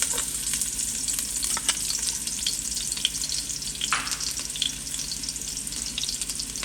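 Onions sizzle and fry in hot corn oil in a pot for a Jamaican brown stew, a dense steady crackle with occasional stirring scrapes, close and continuous with no talk.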